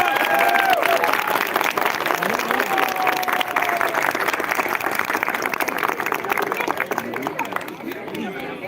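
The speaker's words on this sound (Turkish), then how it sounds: "öncelikle bu güzel çiftimiz için sizden kocaman bir alkış rica ediyorum" Wedding guests applaud the couple in a sustained, dense burst of clapping that stays loud and steady throughout, with crowd chatter and a few voices mixed in beneath it.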